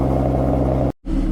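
A cold-started Audi A6 with the 3.0T engine idles in a steady, close, loud low rumble with even harmonic hum, briefly cut to silence near the end before resuming.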